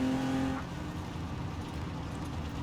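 Engine of a stock Lego Porsche driven in the racing game Forza Horizon 4 on a sim rig: a steady, droning motor roar, with a brief higher whine at the start before it settles into a continuous rumble.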